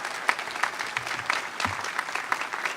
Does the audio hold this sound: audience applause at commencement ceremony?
yes